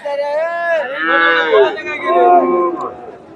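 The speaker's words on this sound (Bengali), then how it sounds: "সুন্দর একটা ষাঁড়।" A Friesian cross bull moos at an outdoor cattle market, giving a loud, close, drawn-out call with wavering pitch that breaks into a second and third lowing phrase before fading.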